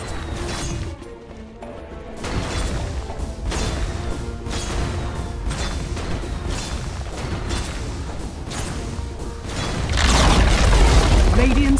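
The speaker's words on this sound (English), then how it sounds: "Radiant's bottom tower has fallen" A tower collapsing during a Dota 2 match, a loud booming crash building near the end over a dense, continuous backdrop of game effects and music.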